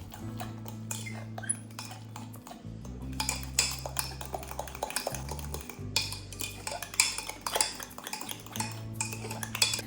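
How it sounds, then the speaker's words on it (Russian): Spoon clinking and scraping against a mug while stirring dry cottage cheese with an egg, a pinch of salt and baking powder, a steady run of close ticking clatters over a low background hum. "Хорошо перемешиваю все до однородности."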